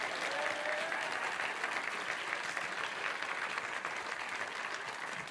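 Warm, sustained applause from an audience at a science communication competition in Cheltenham, a dense even wash of clapping held at steady volume throughout.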